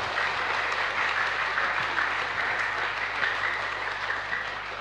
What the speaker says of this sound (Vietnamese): Tự vỗ tay lớn chúc mừng mình.